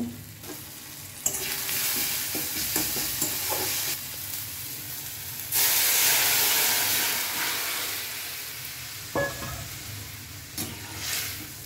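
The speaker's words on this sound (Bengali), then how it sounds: "হালকা করে নাড়িয়ে নেব সমস্ত মশলাগুলো যাতে সবজির সাথে ভালোভাবে মেশে" Boiled vegetables and spices are stirred in a hot pan, giving a close, steady sizzle with scraping and clatter, then a louder hissing surge midway that fades before a few final knocks.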